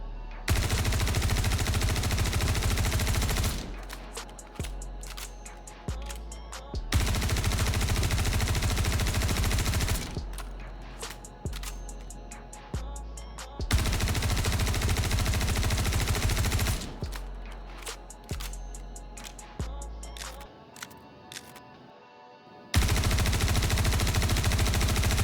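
Sustained automatic gunfire from a weapon fitted with new attachments in the video game Star Citizen, loud rapid bursts lasting several seconds each, separated by short pauses and clattering echoes.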